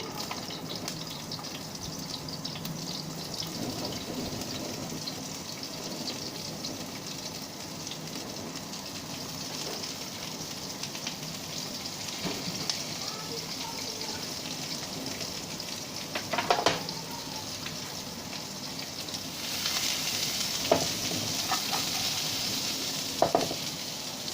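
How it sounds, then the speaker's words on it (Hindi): Onions frying in oil in a non-stick kadai give a steady, close crackling sizzle, broken now and then by the scrape and clink of stirring, with the hiss brightening toward the end. "ऑनियन को अब हम अपना फ्राई करेंगे"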